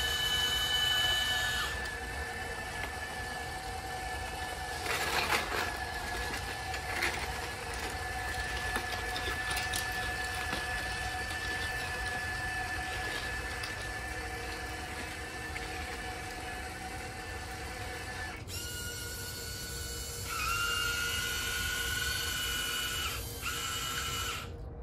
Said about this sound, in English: As the bucket chain system enters the hole again, picking up gravel as it gets deeper.